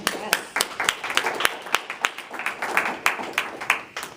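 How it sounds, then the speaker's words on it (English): A small group in a room claps, scattered and uneven sharp claps in a loose rhythm with faint voices murmuring underneath. "Wait, you want to clap too?"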